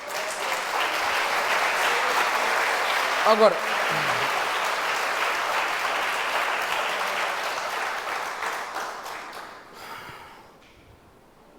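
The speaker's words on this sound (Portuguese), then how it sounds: "Dá um aplauso bem forte para Jesus." A church congregation applauds loudly and steadily for about nine seconds before the clapping thins and fades out, while a voice speaks briefly over it.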